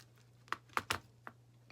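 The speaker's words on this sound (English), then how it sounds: "snip it." Twenty-gauge copper wire for spiral earrings cut with cutters, heard as a few faint, sharp clicks in quick irregular succession, close and quiet, with no speech.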